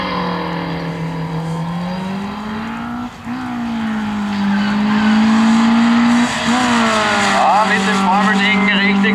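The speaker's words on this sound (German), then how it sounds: "während wir den Ford ins Ziel bringen mit 80." Ford race car on a 1/8 mile drag strip at a speed race event, a loud sustained engine note climbing and dropping in pitch as it drives hard to the finish, with a brief lift partway through.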